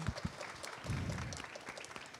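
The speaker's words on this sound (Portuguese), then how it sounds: "eu quero uma salva de palmas para a Amanda Aragão" A crowd claps steadily for a couple of seconds, a dense patter of many hands close by.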